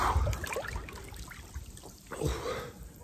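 Water splashes and trickles as a person lowers into a cold outdoor pool, with uneven sloshing bursts near the start and again toward the end, close and moderately loud, and a sharp breath mixed in.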